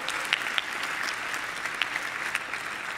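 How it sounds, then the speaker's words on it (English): An audience claps warmly for a speaker at the end of a conference talk, a dense, steady patter of many hands with a few sharper individual claps, moderately distant and continuous. "Please, with a very warm applause, Boris Lein."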